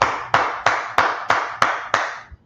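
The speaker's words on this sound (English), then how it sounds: "Let's clap it up for the Lord." Seven slow, evenly spaced hand claps, sharp and close, each ringing briefly into a roomy echo.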